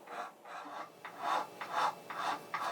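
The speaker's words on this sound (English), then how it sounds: "He continues to do some finer filing with a more strategic tool." A fine file rasps across a violin nut in a string workshop, giving a quiet, close series of about six rhythmic back-and-forth strokes with no talking.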